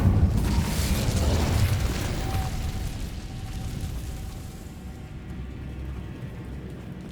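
Incendio fire spell cast in the Hogwarts Legacy video game, a roaring fiery burst with deep low rumble at the start that tapers into a sustained crackling hiss and fades.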